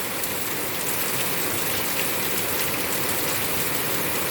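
Steady heavy rain falls without wind, with water pouring off a roof in a dense, continuous close hiss and splash that never lets up.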